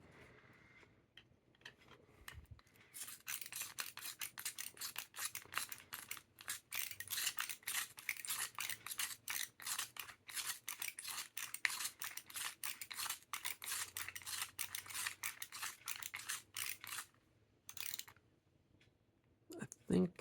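A Bostitch Twist-N-Sharp pencil sharpener grinds a Ticonderoga pencil in a long run of rapid, rasping clicks and scraping bursts, close and fairly loud, pausing briefly near the end before resuming.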